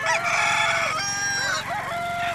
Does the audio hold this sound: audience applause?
no